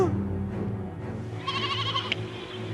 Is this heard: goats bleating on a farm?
yes